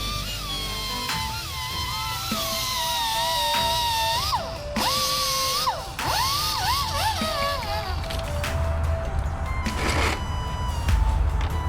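Grinding on a motorcycle drive chain pin for a Kawasaki Z1000, a close, whining power-tool tone that climbs and dips in several bursts over a steady background rumble.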